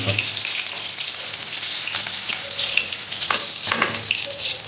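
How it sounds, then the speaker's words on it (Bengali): Tengra fish frying in hot oil in a pan, giving a steady, dense sizzle with faint crackles and light stirring clicks throughout, close and fairly loud with no talking. "ট্যাংরা মাছগুলো ভেজে নিলাম"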